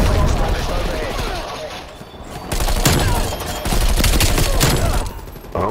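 A Semtex grenade goes off in Black Ops Cold War multiplayer, amid dense bursts of gunfire and sharp blasts filling a chaotic firefight, loud and close with brief dips between volleys.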